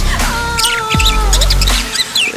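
Parakeets chirp loudly and call back and forth in a residential housing complex in Padang, West Sumatra, with bright, rapid twittering notes and a few sustained whistles over a low background rumble.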